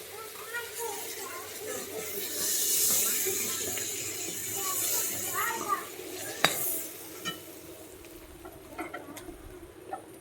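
Fried shrimp being lifted from hot oil in a home kitchen, with a soft steady sizzle, scattered light clinks and scrapes of a utensil against the pan, and a few sharper taps near the end.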